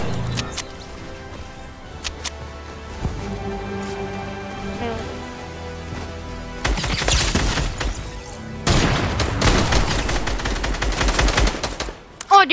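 Gunfire in the video game Fortnite: quieter game sounds, then two loud stretches of rapid automatic fire, the second long and sustained, close and aggressive.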